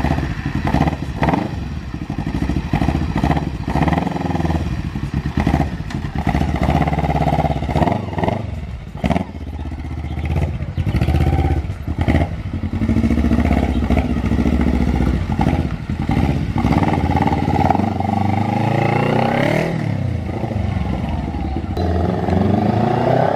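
A Honda CB Blacky motorcycle with a two-cylinder engine idles and revs, a loud, throbbing exhaust rising and falling in uneven blips throughout.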